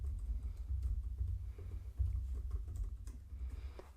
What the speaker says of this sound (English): And I can go ahead and type in Levi